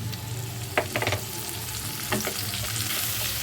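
Onion and chopped tomato fry in a pan with a steady close sizzle, broken by a few quick bursts of spatula stirring, no one talking.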